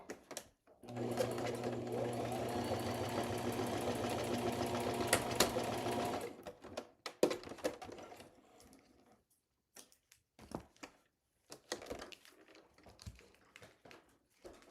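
A sewing machine stitches through the edge seam of a micro sequin album, a steady close whir running for several seconds, then stopping, followed by scattered clicks and handling noises.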